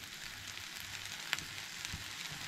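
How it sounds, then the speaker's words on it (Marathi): Turmeric is sautéed in a pan for a chicken dish, a soft, even sizzle with a faint crackle now and then, quiet and close, with no voices. "हळद परतून घेवंक जाय"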